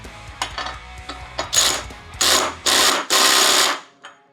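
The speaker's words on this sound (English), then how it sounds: "Tighten it down using the bolt removal mode." A Makita impact wrench in bolt removal mode tightening a bolt, giving a few short ticks and then several loud, rapid hammering bursts of about half a second each, close by.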